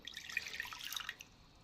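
Freshly boiled water being poured from a pan into a bowl, a brief splashy trickle lasting about a second before fading out.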